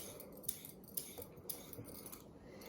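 Carrots are peeled with a hand peeler for coleslaw, a quiet series of rhythmic scraping strokes roughly every half second, close and faint, with no talking.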